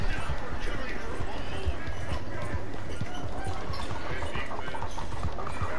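A horse gallops in a video game, its rapid hoof clip-clop running steadily throughout under a dense, loud game soundscape.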